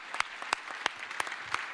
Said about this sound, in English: I think I miss a round of applause for all the speakers first.